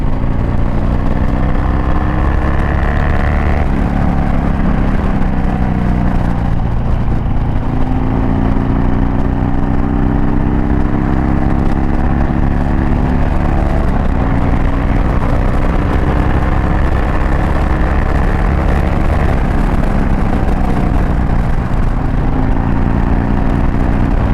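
A Harley-Davidson Dyna motorcycle engine while riding, a loud, constant rumbling drone with rising and falling pitch as it accelerates and shifts, mixed with steady wind roar.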